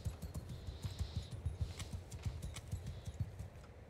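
Hooves of horsemen in Mount & Blade II: Bannerlord, a rapid rhythmic clip-clop of several horses moving together, steady and fairly quiet, heard alone without talk.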